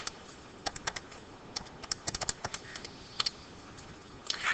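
Rapid keystrokes on a calculator or computer keyboard entering a decimal to compute an inverse sine angle, a quick irregular run of crisp clicks and taps in a quiet room, with a short burst at the end.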